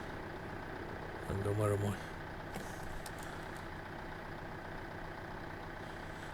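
A tractor engine in Farming Simulator 2015 on the Sosnovka map hums at a steady low drone throughout, with a man's brief spoken question over it.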